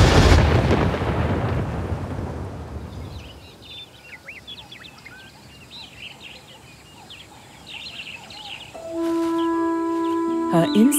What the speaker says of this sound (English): The storm hit some distance away.